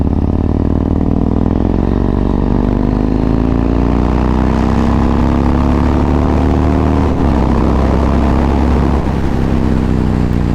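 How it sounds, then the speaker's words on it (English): Motorcycle exhaust note while riding, a loud, continuous, close engine drone with a steady rumble and slowly rising pitch, holding strong without talk. "We've got the right note for me, the right exhaust note, just about the right."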